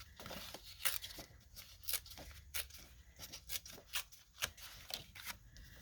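A playing card torn by hand for a magic trick, heard as a series of faint, irregular papery rips and crackles spread across the clip in a quiet room.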